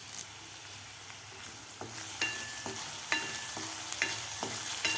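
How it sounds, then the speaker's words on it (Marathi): Onion with ginger-garlic paste sautés in a pan for tomato amti, a steady sizzle with a spatula stirring and scraping in intermittent strokes, close and moderately loud with no talking. "1-2 मिनिट आपल्याला हे कांदा आणि अद्रक लसूण पेस्ट परतून घ्यायची आहे।"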